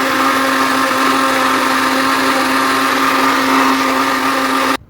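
A mixer grinder blends masala into a fine paste for camel meat curry, a loud, steady high-pitched whine with a constant motor hum that runs unbroken for nearly five seconds, then cuts off abruptly.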